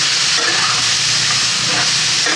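Fresh peas and bell peppers sizzle loudly while being sautéed in a pan over high heat, a constant bright frying hiss that fills the whole moment without a break.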